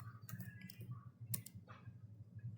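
Keys tapped on a computer keyboard while a command is entered in a network configuration exercise, a few quick irregular clicks over a low steady hum, faint and close.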